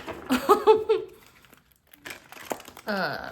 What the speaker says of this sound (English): Every time y'all see me shuffling these cards